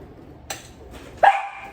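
Excited dogs giving a few sharp barks indoors, one short yip followed by a louder bark, nearby and with no talking over them.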